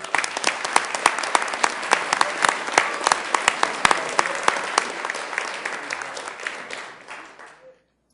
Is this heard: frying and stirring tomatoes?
no